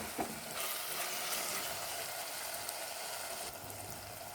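Whole spices sizzle and fry in a pan of small prawn and gongura curry, a steady crackling hiss throughout with a slight swell near the start.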